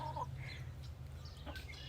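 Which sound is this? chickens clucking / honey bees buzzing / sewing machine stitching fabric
chickens clucking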